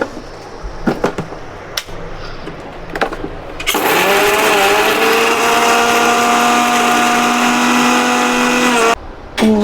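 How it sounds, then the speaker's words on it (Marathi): A kitchen mixer grinder grinds a salted mixture, starting after a few knocks and clatters into a loud, steady whirring drone that holds for several seconds before cutting off. "मी ह्याला मिक्सरला फिरवून घेते आता."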